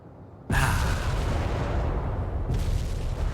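Fuel bomb explosions in the World in Conflict war game erupt with a sudden loud boom, then a sustained heavy rumbling roar with a second blast surge near the end.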